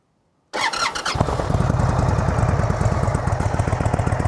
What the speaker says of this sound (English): I'll fire it up so you can listen and see what it's like out here